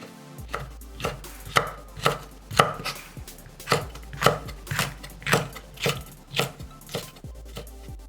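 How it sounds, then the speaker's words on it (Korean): A knife cuts a seeded spicy green chili pepper into slightly thick strips on a cutting board, with a steady series of crisp chops that come in bursts and pause briefly between strokes. "매운 청고추 1개는 반을 갈라서 씨를 발라내고 살짝 굵게 채 썰고"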